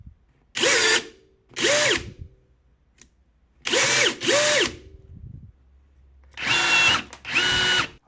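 A cordless rivet gun, a Bosch GRG 18V 16 C or a Parkside PBNSG 20-Li A1, sets steel and aluminium rivets in six short, loud motor whirs. They come in pairs, with quiet pauses between them.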